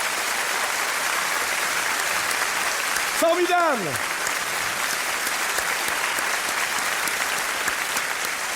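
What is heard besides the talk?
audience applauding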